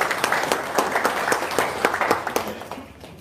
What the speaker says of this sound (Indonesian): Wow, tepuk tangan dulu dong.